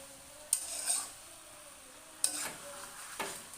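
Potatoes frying in a pan give off a quiet steady sizzle, with three sharp metallic scrapes and clinks as a utensil stirs them close by.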